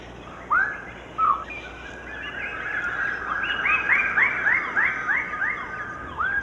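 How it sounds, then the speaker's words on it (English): Lesser birds of paradise call from a communal display tree in New Guinea: two sharp opening calls, then a rising series of loud, ringing whistled notes repeated in quick rhythm over a steady background of forest insects. "These lesser birds of paradise are displaying on a communal tree."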